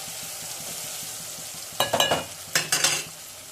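Onions and tomatoes frying in a pan for gongura egg curry, a soft sizzle that gives way to two clusters of brisk scraping stirs with a utensil, close and loud, with no talk.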